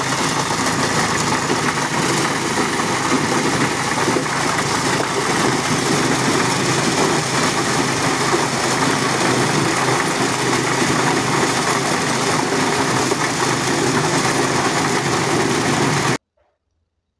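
A maize sheller stripping kernels from cobs runs steadily for a long stretch, a loud, unbroken engine drone with rattling texture, then cuts off abruptly at the end.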